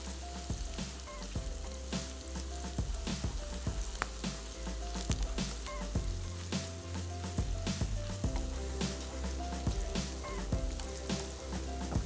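Onions sizzling in a pan over a stove, a steady crackling fry with occasional stirring clicks, fairly quiet and continuous.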